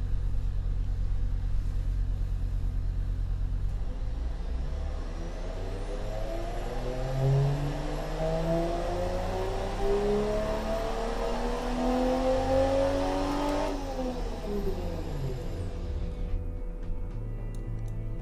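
A video-game inline six car engine, a 3.5 liter making 305 horsepower, revs steadily and loudly, its pitch climbing and falling through several gear shifts before cutting off near the end.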